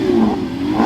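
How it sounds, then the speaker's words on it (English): A Mazda RX-7 with a rotary engine revs hard at a car meet, a short, loud, close-up rising roar with nobody talking. "Here we get some revs."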